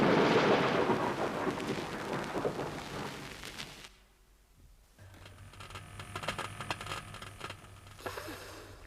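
Stormy evening thunder rumbles loudly with rain for several seconds in a 1983 comedy mystery film, drops to near silence for about a second, then returns as a steady mid-level rumble with a low hum underneath.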